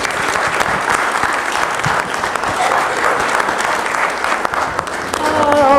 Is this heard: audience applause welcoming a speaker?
yes